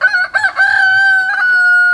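Rooster crows nearby, a single loud, drawn-out cock-a-doodle-doo with a choppy start and a long sustained tone, on its own without voices.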